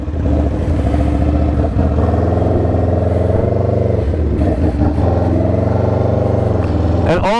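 An Aprilia RSV4 fitted with a 520 chain and sprocket, ridden up to about 40 km/h in second gear in traffic, its engine a loud, steady, close drone with small shifts in pitch and a rising burst at the very end.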